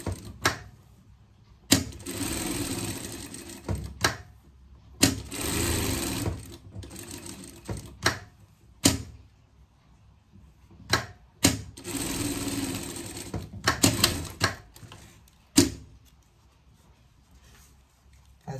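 A sewing machine runs in repeated short bursts while stitching a ribbon bow for a pet costume, each whirring run lasting a second or two, separated by pauses and small clicks, close and fairly loud.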